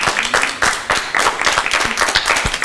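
A small studio audience claps in a burst of uneven, close applause, individual hand claps distinct and fairly loud over a short stretch.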